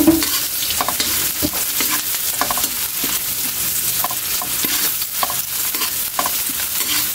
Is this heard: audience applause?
no